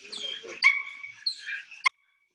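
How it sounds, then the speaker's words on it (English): A dog barks repeatedly during protection bitework training with a decoy and toy, sharp nearby barks mixed with higher whimpering yips, ending abruptly in silence. "The dog has to activate the toy by barking."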